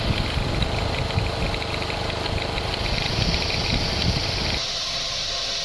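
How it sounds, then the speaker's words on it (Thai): A car engine idles steadily with the air conditioning off, a low, even rumble, then quiets slightly near the end; no one speaks. "ปิดแอร์นะครับเสียงเครื่องยนต์ปกติ"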